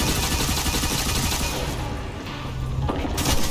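Sniper fire echoes across a Destiny 2 battle, a dense run of sharp shots and booms layered over steady game noise, loud throughout with a brief lull near the end.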